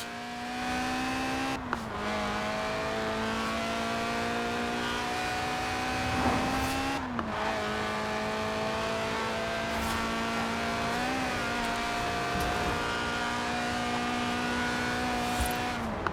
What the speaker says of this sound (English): Right then, the Lotus Elise, a 90s classic based on the age-old roadster recipe.